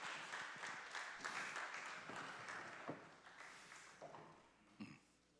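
A church congregation claps in sustained applause for several seconds, dense and steady, tapering off toward the end.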